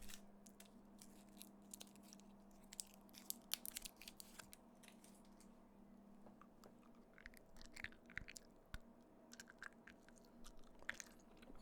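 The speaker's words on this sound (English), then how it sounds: "It's almost like chewing someone's gum that's been stuck under a desk." Rubbery gum chewed right up close, with soft, moist squelches and small clicks in an irregular rhythm over a low steady hum, quiet and intimate with no talking.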